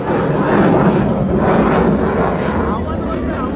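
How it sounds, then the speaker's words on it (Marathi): A fighter jet roars past at an air force show over Girgaon Chowpatty, a loud, sustained broadband rush that swells and then eases slightly as it moves away. "फायटर."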